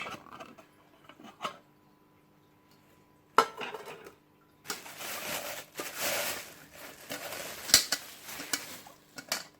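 A lightweight camping pot, pan and lid clink and clatter close by: scattered light metal taps, then a busier stretch of scraping and knocking as they are handled.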